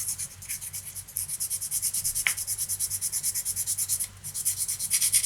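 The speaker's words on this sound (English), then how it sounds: "then finish it off with sandpaper" Sandpaper rubbing steadily over a small popping fly lure being finished, a fast even rhythm of short close scratching strokes with one brief pause partway through.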